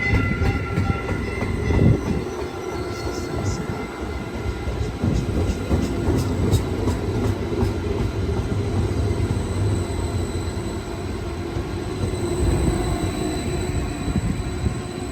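Caltrain commuter train 137, a Stadler EMU set, pulls out of Menlo Park Station on a hot afternoon, its steady rumble of motors and wheels rolling close by and continuous, with faint rail squeal and clicks over the top.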